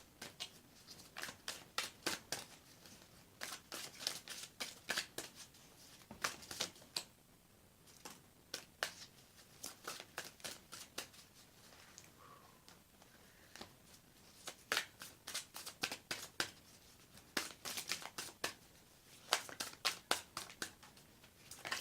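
Tarot cards are shuffled and drawn in a quiet indoor setting, with soft, repeated papery flicks and riffles coming in irregular bursts, close and faint.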